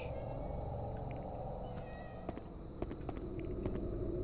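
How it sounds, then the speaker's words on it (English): A cat meows inside the horror video game Haunting Ground, a faint call over a steady low ambient game drone with a few soft taps. "I hear a cat."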